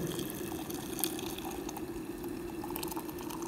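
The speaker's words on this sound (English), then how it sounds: "I am taking the water and pouring into the" Water poured into a beaker during a Fermi energy experiment with a copper wire, a steady continuous trickle and splash running close by throughout, with no talking.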